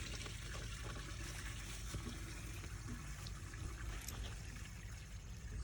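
Clean, soapy water drains from the sewer hose of a 2021 Winnebago View 24J RV in a steady, low trickling pour that stays quiet and continuous throughout.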